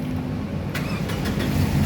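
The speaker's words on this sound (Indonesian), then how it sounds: "nah berikutnya coba kita nyalakan mobil" A 2005 Toyota Fortuner 2.7 V 4x4 automatic turns over and catches. A brief cranking clatter settles into a steady, loud engine rumble close by.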